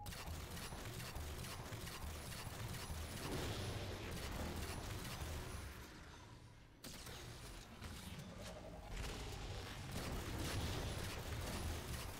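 Dense, continuous weapon fire from a Halo 4 firefight on Legendary difficulty, loud and unbroken apart from a brief dip near the middle.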